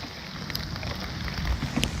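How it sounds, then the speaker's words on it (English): Steady rain pattering on surfaces outdoors on a farm while a fire is being started, a dense continuous hiss with occasional louder drops close by. "Every time we get it going, the rain picks back up."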